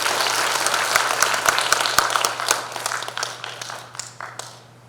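Loud, dense applause from delegates at a political party's regular delegates' convention, greeting a district mayor as he comes up to speak; many hands clapping steadily over a low hum, gradually thinning toward the end.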